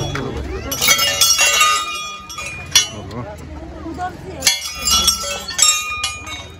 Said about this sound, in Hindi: दर्शन करने के लिए घंटी बजाओ